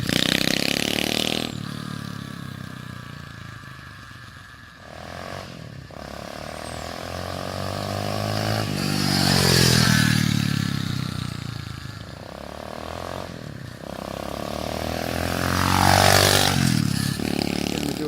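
A 125 cc semi-automatic mini bike makes a high-speed pass, its engine whine rising and falling as it revs through gears and sweeps loudly past close by.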